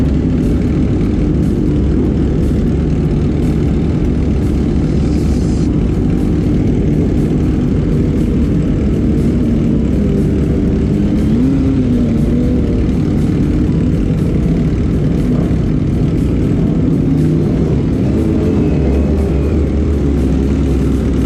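A Kawasaki ZX25R motorcycle with a loud aftermarket exhaust roars and revs in a constant heavy drone, close by and loud, with no talking over it.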